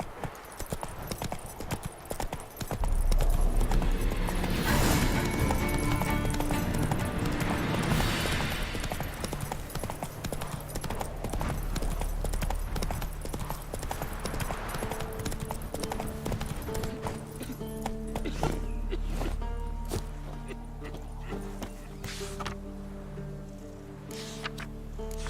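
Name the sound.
horse Roach galloping, hooves clip-clopping, from The Witcher 3 video game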